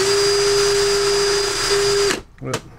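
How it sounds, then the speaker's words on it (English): A power drill used as a makeshift lathe to turn spool pins for lock picking whines at a steady high pitch, then cuts off abruptly and is followed by a brief clatter. "Let's start the lathe up."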